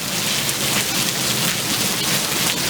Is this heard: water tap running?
no